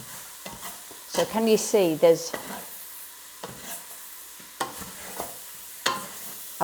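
Vegetables for a vegetarian cottage pie filling sizzle and fry in a pan, with a spoon scraping and stirring in short bursts while someone speaks briefly.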